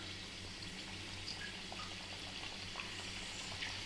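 Pieces of kalakala dough sizzle and bubble steadily in hot oil, a faint, continuous frying crackle with small pops close by.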